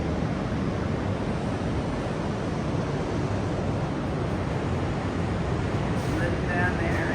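Ocean surf rolls onto Tunnel Beach in the Catlins as a steady, dense wash of waves, loud and unbroken, with wind rushing across the microphone.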